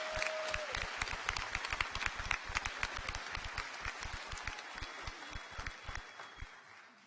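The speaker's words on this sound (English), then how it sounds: "Let's give a round of applause for everybody who contributed to the slideshow." A graduation audience at a nursing ceremony claps for the slideshow contributors, individual hand claps standing out sharply and fairly close over a fainter spread of applause that gradually thins out.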